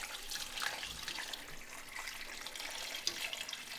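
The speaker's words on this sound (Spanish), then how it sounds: "En esta agua que también está caliente, que acaba de hervir, esta es la que le vamos a poner." Hot, just-boiled water poured from a pot over pork ribs, a steady close splashing gush with no talk.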